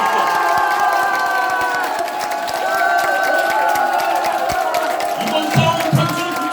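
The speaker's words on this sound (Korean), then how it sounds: "우리 고영일 대표의 위대한 결단에 여러분 한번 박수 한번 다시" A crowd cheering, shouting and applauding at a political candidate's press conference in Gangseo, a loud sustained roar of voices and whoops with scattered claps throughout.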